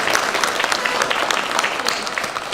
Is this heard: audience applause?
yes